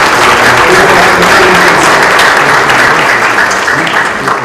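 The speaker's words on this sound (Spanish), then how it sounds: "les pido en primer lugar un aplauso muy fuerte para los compañeros de la Superintendencia" Loud, sustained applause from a large seminar audience fills the space, dense clapping continuing throughout.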